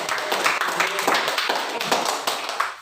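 Group applause in a small counselling-group session: steady, dense clapping from several people, fairly close, running continuously for a few seconds with no talking over it.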